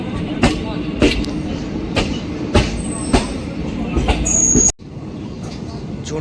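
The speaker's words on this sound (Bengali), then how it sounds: "তো ট্রেন আমাদের পাশের লাইনে উঠে পড়ছে" An intercity express train between Jaunpur and Shahganj in India shifts onto the adjacent track at a large station. Rhythmic, loud wheel clacks over rail joints repeat under a steady rumble, then the sound drops sharply near the end.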